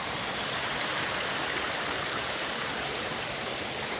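Mountain fountain water pours steadily into a stream on an Olympic Mountains hike, a dense, continuous rushing splash heard close and alone with no voices.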